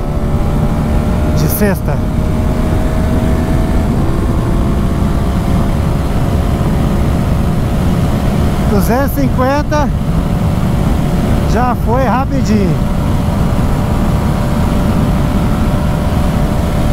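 A KTM 1290 Super Adventure S big-trail motorcycle runs at high speed uphill, a constant loud engine and wind drone with brief pitch swoops, while someone talks over it almost throughout.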